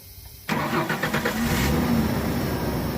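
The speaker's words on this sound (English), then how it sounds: "with this truck, you have to put the clutch in to start it" A 1995 Ford F-150 pickup's 300 inline-six engine cranks and catches abruptly with the clutch in, then settles into a loud, steady idle close by.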